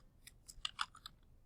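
Brief flurry of soft keystrokes typing a Google search on a computer keyboard, a few quick irregular taps, faint and close, with no voice.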